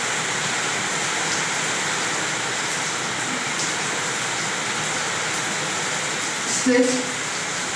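Heavy rain falls steadily throughout as a dense, even hiss, with a person talking over it.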